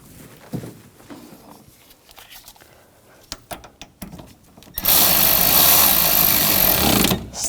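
A nut is run down onto the AC liquid line stud of a 2006-2010 Hummer H3 3.7L, starting with light clicks and handling noises, then a loud, close, steady power-tool whir lasting about two and a half seconds before cutting off.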